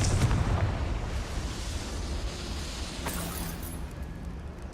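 Confringo spell cast in Hogwarts Legacy, a fiery blast that erupts loudly at first and then rumbles and crackles on, with a sharp second burst partway through, all heard alone.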